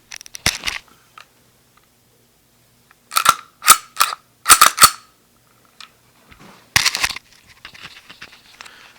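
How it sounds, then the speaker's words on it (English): An FN FNP 9 pistol has its slide handled and racked, sharp metallic clacks and snaps in short clusters separated by silence, close and loud, with fainter rattling toward the end. "Let's see if I can figure out a way here to rack the slide on this thing."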